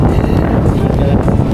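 Loud, blustery wind buffeting the microphone near the Cebu-Cordova Link Expressway bridge in Cebu, rumbling low and steady throughout the short moment.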